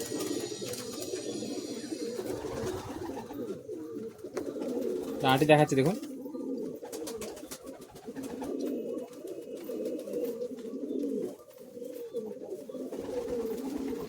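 Madrasi pigeons, including an old Lalsia bird, coo in a steady low rumbling chorus nearby, with a brief flutter of sharper sound midway. Someone talks over the cooing throughout.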